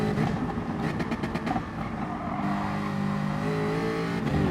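A Jaguar F-Type Group 4 race car in Gran Turismo Sport at Spa-Francorchamps roars loudly close up, its engine revving and shifting through gears as it accelerates, with an opponent car's engine nearby.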